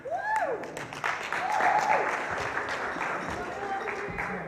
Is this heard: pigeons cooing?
no